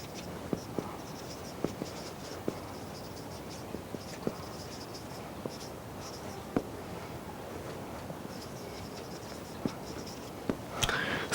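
Someone writing out the full name of the SI unit system during a physics lesson, faint scratchy pen strokes and light taps over a hissy room background, with a louder rustle at the end.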